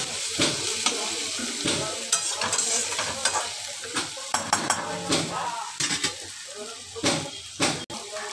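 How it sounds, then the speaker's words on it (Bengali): Onions sizzle in a pan while a spatula stirs and scrapes them in repeated strokes, with occasional utensil clinks over a continuous fry, close and fairly loud. "দেখো পেঁয়াজটা লাল লাল করে ভাজা হয়ে গেছে"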